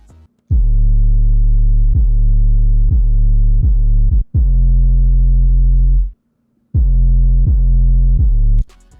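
Deep, booming 808 bass notes pulse in a repeating pattern, loud and heavy, with short gaps between phrases and no voices.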